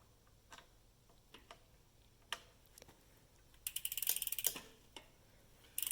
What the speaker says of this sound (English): Next, we're going to take the crankset off.